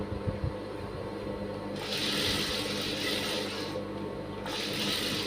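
Sewing machine stitching a blouse lining, two bursts of steady whirring close by separated by a short pause, with no talking.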